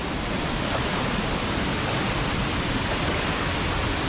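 A steady, loud rush of falling water fills the scene near a waterfall pool in Thailand, a constant broadband wash with no distinct splashes standing out.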